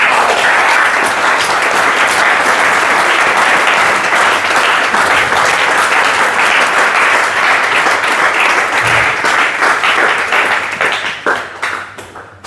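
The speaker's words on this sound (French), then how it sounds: "Est-ce qu'on peut acclamer le Seigneur?" A church congregation claps together in loud, sustained applause that fills the room for several seconds, then thins out into scattered claps at the end.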